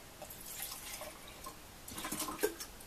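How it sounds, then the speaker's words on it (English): Water is poured from a cup into a pot for vegetable stew on a small camp stove, giving faint trickling and splashing with a few drips, quiet and close. "Here's a cup of water."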